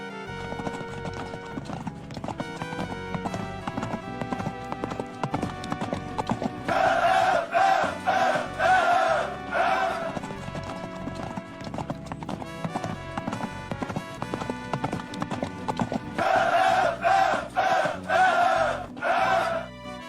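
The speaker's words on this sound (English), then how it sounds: "a relentless force of men and horses moving across the desert" Rhythmic hoofbeats of horses pound loudly in bursts over a dramatic orchestral music bed, rising and falling across the passage.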